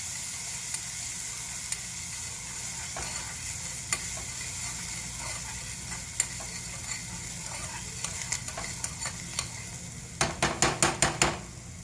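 Food sizzles softly and steadily in a pan, with scattered clicks from stirring and a quick burst of rapid scraping taps near the end, and no talking.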